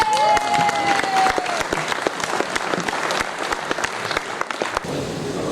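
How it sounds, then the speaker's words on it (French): An audience at a corporate celebration applauds to welcome a speaker to the podium, with loud, distinct claps over a crowd wash. A brief high tone sounds early on, and the clapping thins toward the end. "on accueille sous vos applaudissements"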